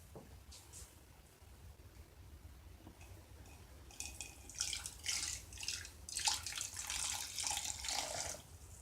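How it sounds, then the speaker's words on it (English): Water pours from a tap in two short bursts and then steadily into a container for a crystal-growing jewelry kit, measuring out about four ounces, with splashing and trickling that grows louder in the second half, no talking. "Let's go ahead and get 4 ounces of water."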